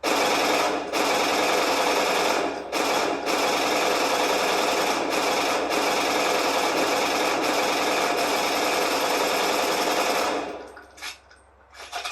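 A 1942 weapon in the video game Fortnite fires in long rapid bursts, loud and continuous with a couple of brief breaks, before cutting off to quieter sounds near the end.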